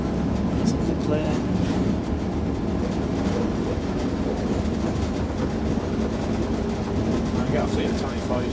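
Inside the cab of a Class 56 diesel locomotive, a steady, loud engine rumble and rail noise run throughout with faint clickety-clack, with murmured voices underneath.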